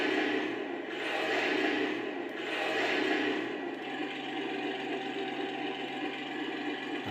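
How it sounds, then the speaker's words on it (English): Simulated engine revving from a sound pack fitted to an Armortek Tiger 1 model tank, a steady, buzzy mechanical drone that swells twice and then settles into an even hum. "And engine revving."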